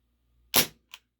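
A Ruger P345 airsoft pistol fires a single shot with an aluminum BB, giving a sharp, close crack that decays quickly and is followed by a smaller click a moment later, in an otherwise quiet room.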